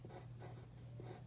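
A pencil writes on paper in quiet, scratchy strokes, several short bursts close by with no talking.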